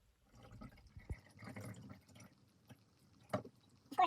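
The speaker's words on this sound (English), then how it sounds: "Now I'm just gonna pour it through this mesh filter into a water bottle, plastic water bottle" Wild fig cider poured through a mesh filter into a plastic water bottle, a faint close trickle and splashing with a few soft drips and knocks, quiet and uneven.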